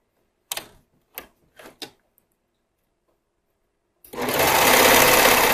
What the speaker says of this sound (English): You're just straightening out your fabric as it feeds into the machine.